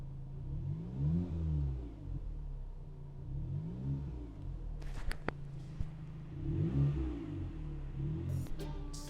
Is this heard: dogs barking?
no